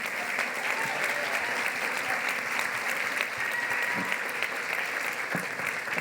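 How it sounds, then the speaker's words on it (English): An audience at a panel discussion applauds steadily, a dense, even wash of clapping from a large crowd lasting throughout. "I want to give one more round of applause to our panel."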